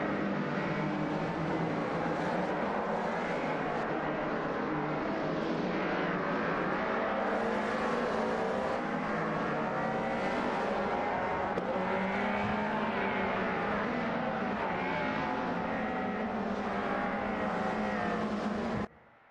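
Race cars in a sim-racing game battling closely for position on a track, their engines roaring loud and steady with a few rising surges, before the sound cuts off abruptly at the end.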